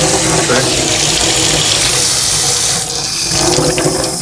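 Water gushes loudly and steadily from a water filter tap, the flow shifting in tone partway through as air purges from the line.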